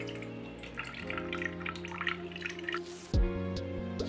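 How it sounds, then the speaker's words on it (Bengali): Water trickles and drips steadily through a small sieve as fresh chhena curds are rinsed and strained, with a sustained tonal background running underneath. "এইবার আমি ছানাটাকে ভালো করে ধুয়ে নিচ্ছি।"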